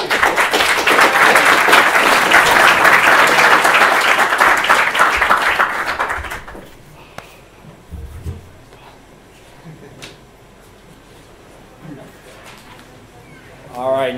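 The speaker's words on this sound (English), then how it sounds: "All right, round of applause." An audience at a tech talk event breaks into loud, dense applause for about six seconds, then the clapping dies away into a quiet room with a few faint bumps and shuffles.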